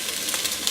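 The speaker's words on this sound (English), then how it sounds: "And y'all know I love the sound of the sizzle." Garlic sizzles in a pot of potato leek soup, a brief soft hiss with faint crackles, close and steady, no talking.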